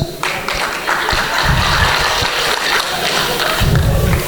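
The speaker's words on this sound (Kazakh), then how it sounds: "Төрт жігіт шапалақтады ғой." Scattered clapping from a small part of a stand-up comedy audience, with thumping hits and crowd noise, fairly close and moderately loud.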